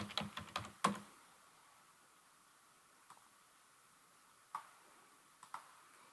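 Typing on a computer keyboard, a quick burst of several key clicks at the start, then a few isolated faint clicks spaced apart in a quiet room.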